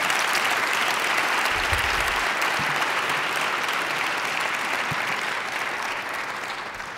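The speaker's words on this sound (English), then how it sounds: "Come on, let's give him another round of applause." Audience applauding a keynote speaker, the Giants' Larry Baer, at a 2012 State of Downtown event, dense sustained clapping from a large crowd that tapers slightly toward the end.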